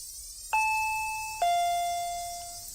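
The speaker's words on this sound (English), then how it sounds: "The bell rang." Doorbell rings with two bright electronic ding-dong chimes, the second tone lower, each ringing on and slowly decaying in an otherwise quiet indoor space.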